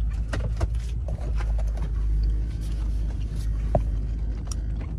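A vehicle engine idles and rumbles steadily at close range while backing up at a log cabin build site, a continuous low drone with faint scuffing over it.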